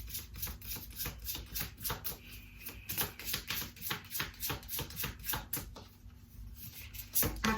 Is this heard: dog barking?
no